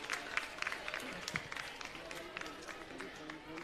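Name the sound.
applause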